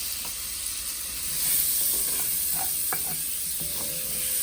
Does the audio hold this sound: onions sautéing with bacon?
yes